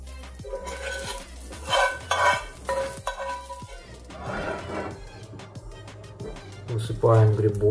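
Mushrooms and other ingredients for a creamy cheese soup are tipped from a pan into a pot of boiled potatoes, making repeated scraping, clattering and soft sizzling, with someone talking over it throughout.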